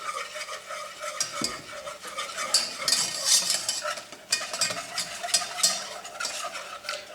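Frangipane cream cooks in a saucepan while being stirred continuously, producing close, rhythmic scraping strokes over a soft sizzle from the pan, with no one talking.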